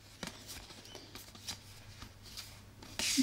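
Playing cards, new character cards from a Shadow of the Bat board game expansion, are shuffled and handled close up, with repeated soft riffles and slaps and a louder burst of flicking at the end.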